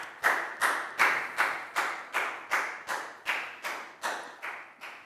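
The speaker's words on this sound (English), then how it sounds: "High five and a big round of applause for Pat" A Year 4 maths class claps for a pupil, about eleven sharp, evenly spaced claps at a steady rhythm, close and fairly loud with no talking.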